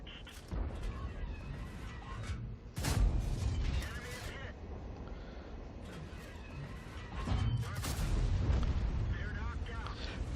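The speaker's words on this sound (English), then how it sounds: "That was 3 shots" Artillery SPG shots fired in the World of Tanks video game, three heavy booms spaced a few seconds apart, each a loud low blast with a rumbling tail, with a mechanical background hum between them.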